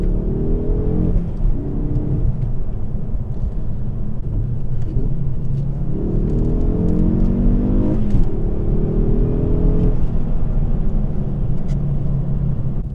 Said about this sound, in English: Even from the low down, the noise is just so punchy and it's roaring just as it should.